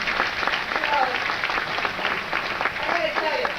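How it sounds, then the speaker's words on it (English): Crowd at a political speech applauding, sustained dense clapping at moderate loudness with some cheering voices mixed in throughout. "one would never have predicted that you would get applause on a line like that"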